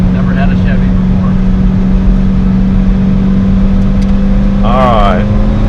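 A Chevy race car runs steadily in second gear, a loud continuous engine drone close by with a brief rising whine near the end, and faint talk underneath.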